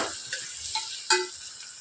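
Ingredients sautéing in a pan for beetroot kuzhambu until golden, a brief stretch of soft sizzling with a few light stirring scrapes, one slightly louder than the rest.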